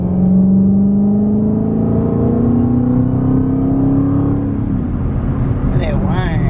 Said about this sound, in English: I just want to listen to the sound of the car